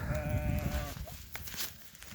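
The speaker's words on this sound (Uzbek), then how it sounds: "Mana qo'zcha." A lamb bleats once, a close, wavering cry lasting about a second, followed by quieter rustling outdoor background.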